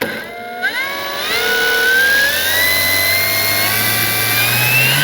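Electric motor of an FMS Fox 3m RC glider spinning up at hand-launch, a steady loud whine that rises in pitch as throttle comes up to about three-quarters, then holds and keeps climbing slightly as the plane leaves the hand.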